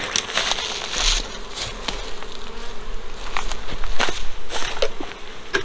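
Honeybees buzz steadily inside a smoked walk-away split hive fitted with a candy board, a dense close drone swelling and fading, with scattered crackles and knocks from the hive being opened; no one speaks.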